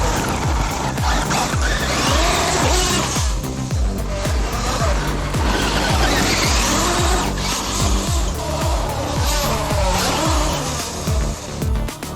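Traxxas UDR radio-controlled trucks with small wheels race on the Cambridge RC track. Loud, continuous motor whine rises and falls in rapid sweeps as they pass close, with tire squeals and skids throughout.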